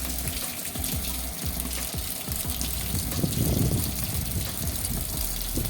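A Samsung washing machine with a wobble fault fills with water, a steady broadband rushing hiss throughout with a low gurgling swell in the middle, close and continuous.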